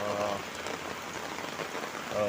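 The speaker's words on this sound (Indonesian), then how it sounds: "Ini hujannya besar banget." Heavy rain pours down on a village, a dense, even hiss of drops drumming on surfaces close by, steady and unbroken across the short stretch.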